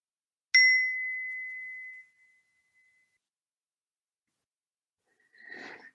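A single small bell strikes once and rings out clearly, its bright tone decaying slowly over about two seconds in an otherwise quiet room, followed later by a faint soft sound.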